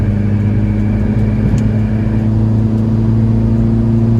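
A Mini JCW GP engine hums loudly and steadily from inside the car on a race circuit, a sustained low drone at fairly constant revs with no talk.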